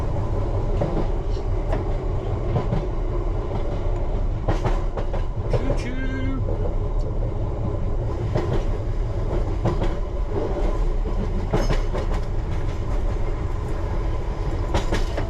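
A London Underground Piccadilly Line train during engineering works rolls past close by, a loud continuous rumble with clickety-clack wheel beats and a short squeal midway.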